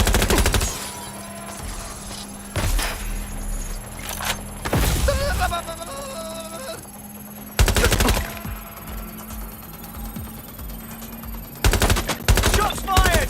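Bursts of gunfire in the video game Watch Dogs Legion, loud sharp volleys and rapid strings of shots recurring every few seconds amid game sounds and shouted voices.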